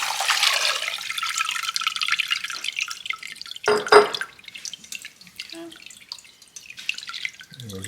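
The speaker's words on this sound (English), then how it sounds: "This is the one we squeeze the water out of the watermelon first." Water squeezed from watermelon drips and trickles into a bowl, a close, wet patter with a brief louder splash midway, then scattered drips fading toward the end.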